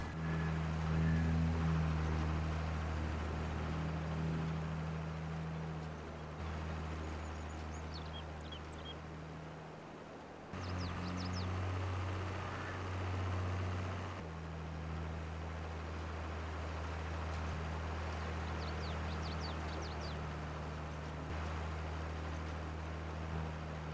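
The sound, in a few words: tractor engine left running, from the video game Farming Simulator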